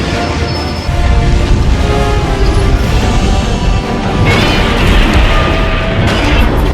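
Plasma cannons fire in a film scene, a dense roaring barrage of heavy blasts and rumbling impacts that runs continuously and loud, with no talk.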